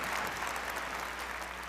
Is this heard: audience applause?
yes